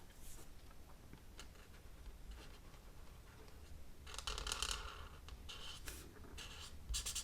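A pen colours in a paper Christmas card at close range, giving soft, continuous scratchy strokes that grow busier and brighter toward the end, with no talking.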